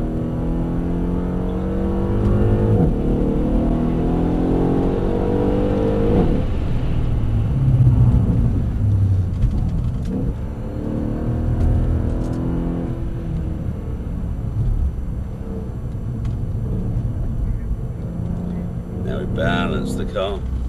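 A Mercedes-AMG car driving warm-up laps on a tight track, its engine rumbling and revving steadily throughout under near-continuous talk from people in the car.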